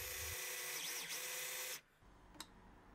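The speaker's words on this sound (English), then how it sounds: "with this socket, I can screw these rods into the stud at high speed." A power drill fitted with a 13mm socket spins threaded rods into a wall stud: a steady high-pitched whir for under two seconds, then a quieter pause with a brief mechanical click.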